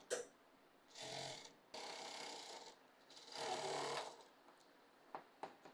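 A sewing machine stitches the waistband belt of a salwar made from suit fabric, running in three separate bursts of steady whirring with short quiet gaps, close and moderately loud.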